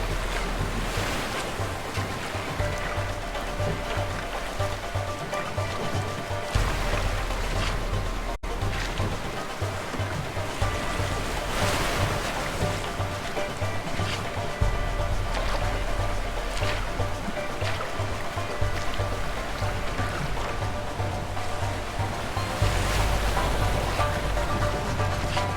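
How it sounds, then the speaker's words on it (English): Boat riding rough, rushing stream water in the video game A Way Out, a steady loud wash of churning water and wind rumble running the whole time with no clear talk. "Looks like our peaceful boat ride is over."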